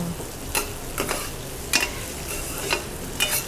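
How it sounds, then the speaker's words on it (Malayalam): Fruits cook in ghee in a pan, a faint steady sizzle with periodic soft scraping strokes of a stirring spoon at irregular intervals, close by and without voices. "ഇത് നമ്മളിങ്ങനെ ഒന്ന് നെയ്യിൽ താളിക്കുകയല്ല, ഒന്ന് കുക്ക് ചെയ്തെടുക്കും."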